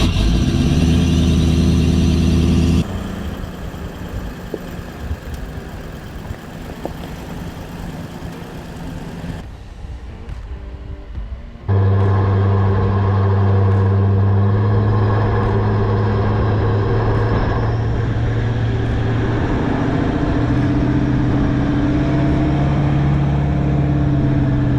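A car tows a caravan along a rough off-road track, its engine droning loud and steady with road and body rumble throughout, the note dropping briefly midway before rising again.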